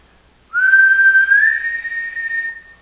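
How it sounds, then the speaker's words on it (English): A clear, high-pitched lip whistle holds one steady tone for about two seconds, rising slightly partway through, close and fairly loud with no talking. "And if you make the aperture smaller, you'll get a higher whistle."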